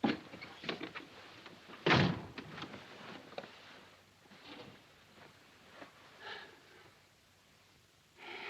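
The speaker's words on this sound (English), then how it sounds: "Shut the door." A door is pushed shut with a single sharp thud close by, preceded by soft movement and followed by quiet room tone with faint breathing and rustles.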